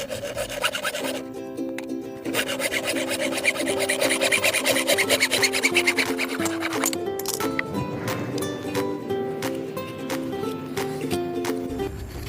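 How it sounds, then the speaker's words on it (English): Sandpaper roughing up the freshly cut end of an underground sprinkler pipe, a steady close rasping rub that runs continuously through the whole stretch with no talking. "you want to rough it up a little bit with some sandpaper so that the glue has something to bite into rather than just a smooth surface"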